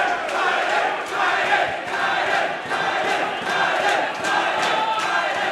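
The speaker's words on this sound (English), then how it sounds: "Crowd going nuts here with round number 3, third and final championship round." Crowd at an XFC mixed martial arts championship fight roars and cheers through the third and final round, a dense continuous wall of shouting with rhythmic surges, no clear speech.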